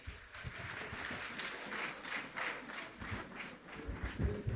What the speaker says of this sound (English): May we welcome him with a better round of applause.